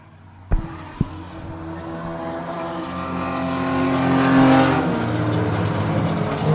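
Race cars at an enduro on a track, an engine note building and swelling as cars pass close by, opening with a couple of sharp bangs, with no voices.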